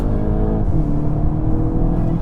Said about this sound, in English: So we've just put it into sport, kick down, drops to second, you're off.